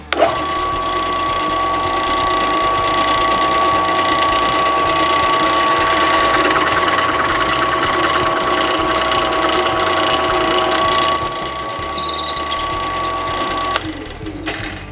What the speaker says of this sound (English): now I'm gonna cut with the plug cutter